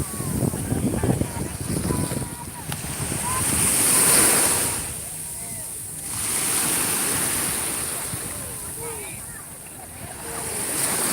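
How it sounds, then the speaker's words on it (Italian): Sea waves surge and break against the rocks at Pastena in Salerno, a continuous washing roar that swells and recedes in slow waves, with wind buffeting the microphone throughout. "Il rumore dell'acqua è la fine del mondo"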